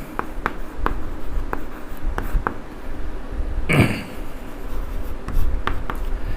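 A pen writes on paper during a class 8 maths lesson, with scratchy strokes in short irregular bursts, close and fairly quiet, broken by a brief throat noise partway through.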